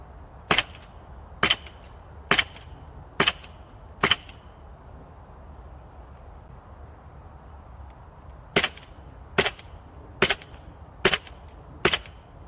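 Airsoft pistol fitted with a homemade silencer fires ten sharp shots, five in a steady rhythm, then a pause of about four seconds before five more, each a short crisp snap over a quiet background.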